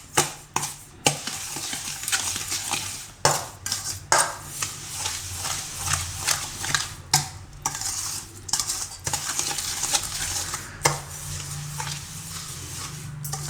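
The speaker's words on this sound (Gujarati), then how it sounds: "આ બધું મિક્સ કરી લઉં" A spoon stirs a red chilli and jaggery pickle mixture in a pot, with salt just added. Soft, uneven scraping and clinking sounds repeat close by, and no one speaks.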